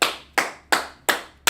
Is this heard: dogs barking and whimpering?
no